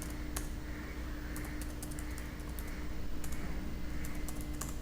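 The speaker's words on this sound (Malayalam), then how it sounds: "ഇനി ജസ്റ്റ് പേര് ടൈപ്പ് ചെയ്ത് നോക്കാം" Someone types a name into an Excel spreadsheet on a computer keyboard: a run of light, irregular key clicks close by, over a steady low hum, with no talking.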